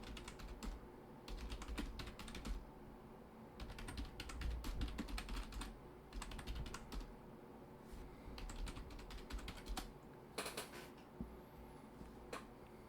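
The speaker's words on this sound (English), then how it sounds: "A lot of typing." Fast, continuous typing on a computer keyboard during a gacha game session, with dense clicking keystrokes running steadily throughout and brief pauses between bursts, close and fairly loud.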